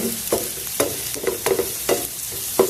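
Garlic sautéing in a pan, with a steady low sizzle broken by about seven distinct scraping stir strokes of the spatula at a loose rhythm; close and moderately loud, no voices.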